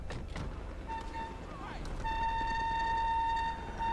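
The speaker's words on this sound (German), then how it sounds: "Ist fasziniert von der Hupe, oder?" A car horn in the video game GTA V sounds in short toots and then one long sustained honk. It is fairly close and continues under steady engine and street noise.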